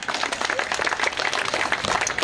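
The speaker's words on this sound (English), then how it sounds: "you can clap for that if you want" Audience at an outdoor anti-violence rally breaks into steady, dense clapping that carries across the whole stretch at even loudness, with no voices rising above it.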